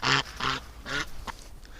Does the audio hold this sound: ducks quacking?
yes